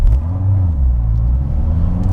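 A Corvette's exhaust rumbles deep and close, a steady low growl with gentle swells in pitch as the engine idles and revs slightly, alone without speech.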